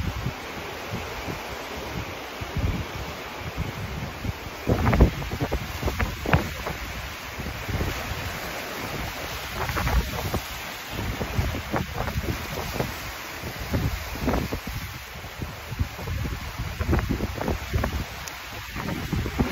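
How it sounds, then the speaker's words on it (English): Atlantic Ocean wind and waves at Goree Island, Senegal: constant wind buffeting the microphone over rolling surf, with irregular louder gusts and wave surges. "the Atlantic Ocean behind me."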